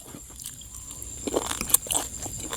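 Crunchy, close-up chewing of spicy beef noodles with chewy translucent beef tendon, a run of moist bites and crisp crunches that grows louder toward the end.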